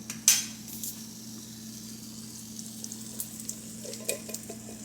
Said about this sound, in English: I have drained my beans, both my black beans and my pinto beans. So we're just going to add these in.